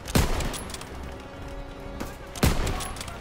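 Gunfire in the game Call of Duty WWII, two loud, close bursts of shots at the start and near the end, with lighter battle noise and a low hum in between.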